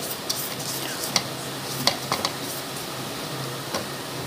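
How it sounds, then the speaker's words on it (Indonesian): Butter and sugar being creamed together for a festive layered cake, with soft scraping and stirring in a bowl and a few sharp clicks of the beater or spoon against the side, moderately close with no talking. "Sekali lagi kita krim gula dengan mentega."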